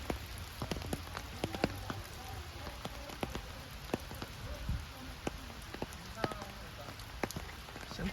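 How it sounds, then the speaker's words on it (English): Steady rain pattering on a war cemetery for Allied soldiers killed in the Battle of Arnhem at Oosterbeek, with dense close drops hitting surfaces and a constant wet hiss throughout. "show you a very rainy cemetery"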